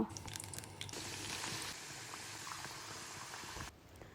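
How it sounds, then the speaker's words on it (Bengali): Mini nimki fry in hot oil in a pan, giving a dense bubbling hiss that swells after a quick start. The sound stays steady, then drops off abruptly near the end. "তো প্যানে তেল গরম করে আমি একটা একটা করে নিমকিগুলো ছাড়ব"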